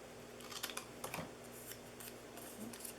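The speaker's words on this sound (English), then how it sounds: "We'll just cut one little piece from here." Scissors cutting a small piece of material for a DIY Christmas tree gift box, a few quick close snips in a quiet room, no talking.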